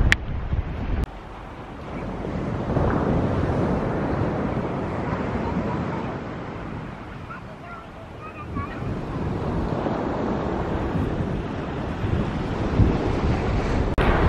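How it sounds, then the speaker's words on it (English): Heavy wind buffets the microphone with a constant low roar on a beach at Sandbanks, while waves and surf wash in the background; no talking. "it's getting way too windy."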